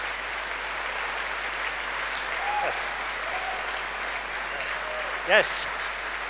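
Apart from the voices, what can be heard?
audience applause for a speaker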